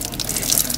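Tap water runs steadily into a BLANCO Silgranit PuraDur kitchen sink, a continuous close hiss and splash with no talking.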